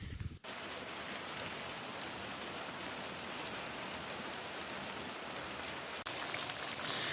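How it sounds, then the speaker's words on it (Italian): Steady, even rain from a summer afternoon thunderstorm patters and hisses without pause, with no thunder or voices, only a small shift in texture near the end. "Lunedì inizia così con un bel temporale pomeridiano estivo"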